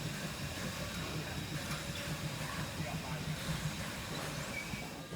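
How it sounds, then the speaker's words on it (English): Miniature gauge steam train number 2 at a steam museum, a low continuous rumble and hiss rolling past at a steady level, with a faint voice underneath. "we heard the rumble of number 2. It raced past the sheds at the back and then around the bend."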